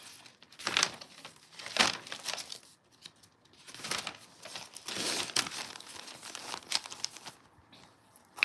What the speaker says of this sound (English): let me tear that off because I definitely use that